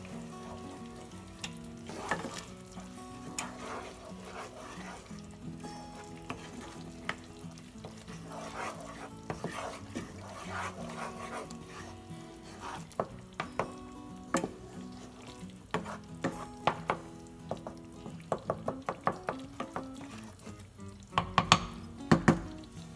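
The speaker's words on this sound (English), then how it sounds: "we're gonna let this simmer for about 3 minutes to let the wine dilute in there" Pasta sauce with wine simmers and sizzles in a pan, a steady soft bubbling hiss broken by occasional clinks and scrapes of stirring, close by and with no voices.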